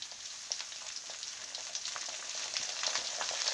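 Cabbage pieces and softened onion fry over medium heat in a pan while being stirred, giving a steady crackling sizzle with scattered sharp pops that grows slightly louder, close by with no talking.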